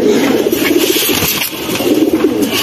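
A male pigeon kept for sale coos loudly and close, a continuous low throaty burble that swells and fades in repeated phrases.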